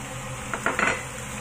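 A utensil scrapes and clinks against a pan while eggs and baby fish are stirred, a few quick close taps over a faint background hiss.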